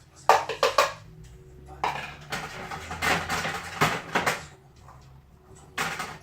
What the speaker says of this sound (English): I'm going to start by putting my celery and my carrots in the pan